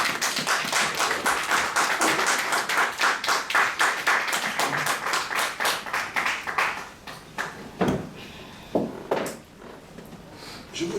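Church congregation applauding during a sermon, a run of loud, rhythmic claps in unison that slows and thins into a few scattered final claps.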